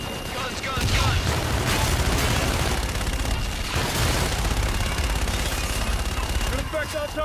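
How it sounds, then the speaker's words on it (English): Sustained aircraft cannon fire during a gun run in the Infinite Warfare video game, a loud, dense continuous roar of rapid shots lasting several seconds with booming low end, under radio chatter. "Inbound for gun run. Guns, guns, guns!"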